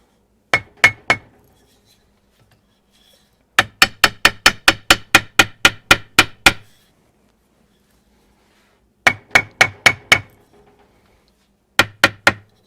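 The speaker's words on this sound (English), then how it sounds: "So let me pop this barrel back in again." A Kibler colonial rifle barrel is tapped down into its wooden stock with sharp, close knocks, delivered in quick bursts of three, ten, six and three blows separated by pauses.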